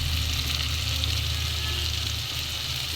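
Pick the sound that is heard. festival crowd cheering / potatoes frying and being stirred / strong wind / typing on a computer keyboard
potatoes frying and being stirred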